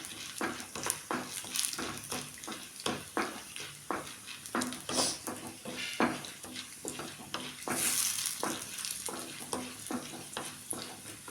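Garlic and a small lump of tamarind fry in a pan for beetroot chutney: a constant sizzle broken by rhythmic spatula scrapes and stirring strokes, close and clear with no talk.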